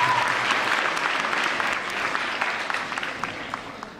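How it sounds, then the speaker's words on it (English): A school crowd gives a sustained round of clapping for the organizer of a middle school head-shaving event, dense and steady at first, then thinning slightly as it carries on. "big round of applause"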